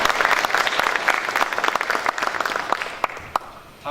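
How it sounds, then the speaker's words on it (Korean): Audience applause welcoming dignitaries at a public legislative hearing in Jeonju, a dense burst of many hands clapping that stays loud and steady for about three seconds, then thins and tapers off near the end. "뜨거운 박수로 환영해주시기 바랍니다."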